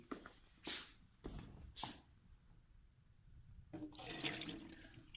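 Water poured out into a sink or drain indoors, a rushing splash arriving near the end after a few short thumps and handling sounds, fairly close and alone with no talk.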